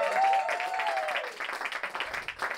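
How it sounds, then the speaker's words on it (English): Audience applause at a live comedy special, a moderate spread of clapping from the crowd, opening under a brief high vocal tone and continuing unevenly for a couple of seconds. "round of applause."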